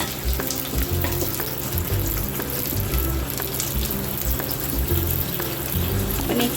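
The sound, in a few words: mixed vegetables frying in oil for soybean biryani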